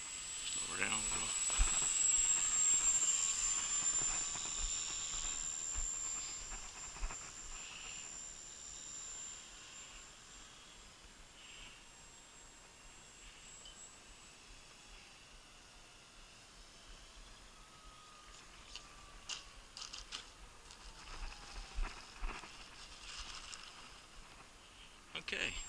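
A Dynam Texan T-6 radio-controlled model airplane flies overhead, its high motor whine loud at first, then fading into distant hiss as it moves away, with a few sharp noises near the end.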